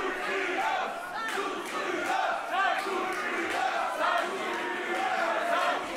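A wrestling crowd at a GWF show in Berlin-Kreuzberg roars and chants loudly and steadily, a dense wall of cheering and shouting with no break.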